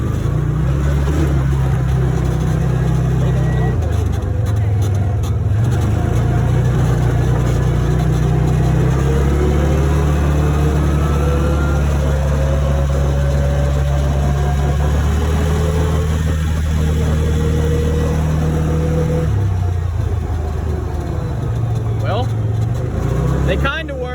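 Arctic Cat engine droning steadily on a road test drive after a brake change, a continuous loud mid-pitched hum that rises and falls slightly with throttle throughout, heard up close without pause.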